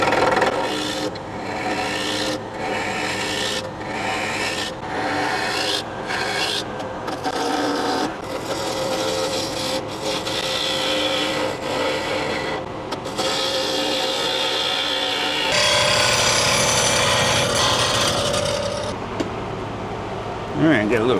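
A woodturning tool cuts a tenon on a bowl blank spinning on a lathe, giving repeated scraping, rasping passes with short pauses, then a steadier hum of the spinning lathe near the end; a voice talks briefly.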